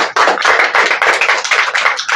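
Sustained, dense audience applause at a televised talk program honoring an Uttarakhandi folk singer. Many hands clap steadily and loudly for about two seconds with no voices.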